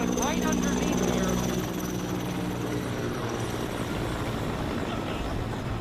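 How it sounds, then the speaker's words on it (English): A helicopter works over a fast-spreading wildfire northwest of Los Angeles, dousing flames above a neighborhood, its rotor and engine drone holding steady and fairly loud beneath a murmur of voices. "You can see that helicopter."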